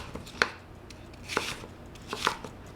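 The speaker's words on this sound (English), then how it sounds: "So first I'm gonna cut up my apple. I'm just gonna dice it small" Three sharp knife strikes into an apple on a cutting board, spaced about a second apart, each a crisp close chop over a quiet kitchen background.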